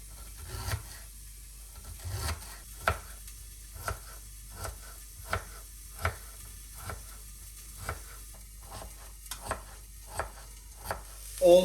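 Ginger finely chopped on a board, a close, steady train of soft knife thuds about once every second, each with a brief scraping edge, loudest stroke at the end.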